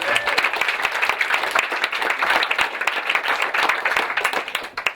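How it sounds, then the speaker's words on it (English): Wedding guests at the speeches give a round of applause. Many hands clap in a dense, steady burst that fills the whole stretch and fades slightly at the end. "A round of applause for that."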